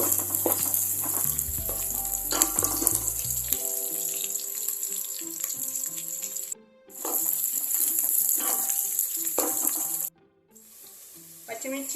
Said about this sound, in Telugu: గ్రీన్ చిల్లీ వేసుకుందాం. ఒక 1 మినిట్ ఫ్రై చేసుకుందాం.